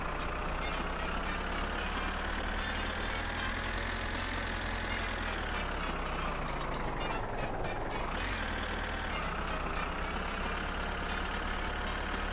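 A tractor in the video game My Winter Car jackknifes: a loud, continuous engine drone dips sharply in pitch and then recovers partway through, with no talking.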